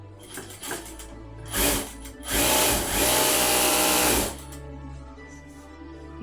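A sewing machine stitching bags, its motor humming faintly and then running loud and fast for a couple of seconds before slowing, with a steady low hum throughout and no talk.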